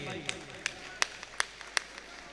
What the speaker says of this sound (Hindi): जोरदार तालियां मोइन भाई के लिए।